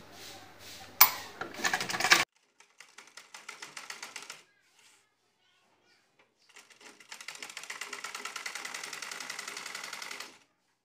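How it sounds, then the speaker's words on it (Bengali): A sewing machine stitches a folded hem on a kameez neck strip, running in two steady rapid bursts separated by a pause, close and fairly loud after some brief handling noise. "তারপর সেলাই করে নেব।"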